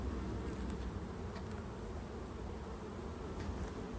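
Honey bees buzz steadily around an open, strong hive during an inspection, a dense, continuous, fairly faint hum with individual bees passing close now and then.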